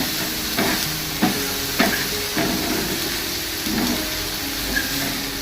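Onions sautéing in a pan for adai batter, a constant broad sizzle with several soft scraping stirs of a spatula, close and steady with no talk.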